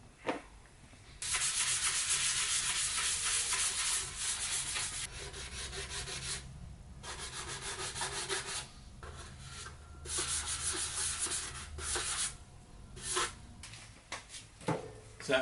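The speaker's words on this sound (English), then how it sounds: "But couple more rounds of sanding," A sanding block is rubbed over a custom Mandalorian helmet in quick back-and-forth strokes, a loud, close, raspy scraping in bursts broken by brief pauses.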